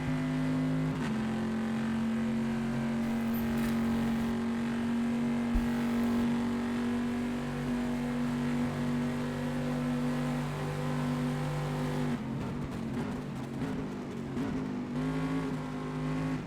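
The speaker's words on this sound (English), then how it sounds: "I'm going to be quiet so we can listen to the roar of the V8 Chevrolet Corvette." Engine of a 7-litre V8 Chevrolet Corvette in a 24 Hours of Le Mans racing game, a steady droning roar held at constant pitch that shifts and roughens near the end.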